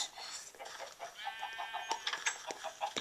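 Minecraft chickens cluck in short, close bursts over a busy, layered background of faint chirps and clicks.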